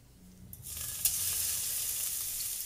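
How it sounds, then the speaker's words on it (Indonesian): Minced garlic and shallots hit hot frying oil in a wok, a quiet start giving way to a loud, steady, close sizzle that keeps going with no voices over it. "Setelah minyaknya panas, masukkan 4 siung bawang putih dan 4 bawang merah yang udah diulek atau"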